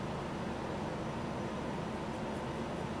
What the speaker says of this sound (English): I apologise for that whirring sound in the background, but I've got the aircon on